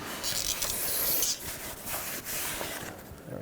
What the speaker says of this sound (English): go ahead and wipe these off with a clean rag and some brake parts cleaner